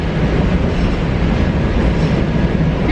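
A train rides along a Chicago rail line, giving a loud, steady rumble with close rattling and clacking from the cars throughout. No one speaks.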